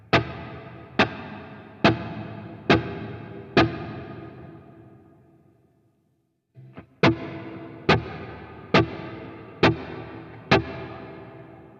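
Electric guitar through a UAFX Heavenly Plate reverb pedal, short snappy strums struck in two sets of five at a steady pace. Each strum is loud and close, with a plate reverb tail trailing off after it.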